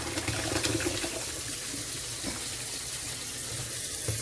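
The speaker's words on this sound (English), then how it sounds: "I'm going to pour off my macaroni." Macaroni cooking water pours into a sink in a steady, even rush of splashing water, fairly close and unbroken, with no voices.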